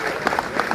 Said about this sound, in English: big round of applause to our governor.